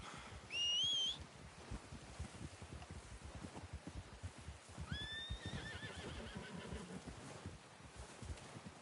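Horse whinnies twice in Red Dead Redemption, a loud bright neigh near the start and a second longer whinny around midway, over steady rustling and hoof-like clatter.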